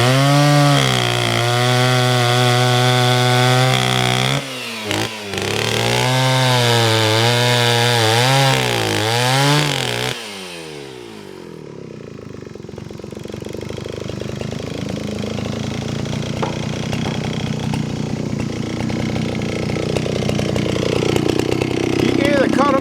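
A chainsaw cuts firewood rounds, its engine note rising and falling loud and close through the first ten seconds, then giving way to softer rubbing and handling noise of wood being pushed and moved.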